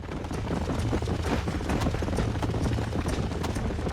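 Horses galloping in the Red Dead Redemption video game, with rapid, loud clip-clop hoofbeats pounding steadily and close.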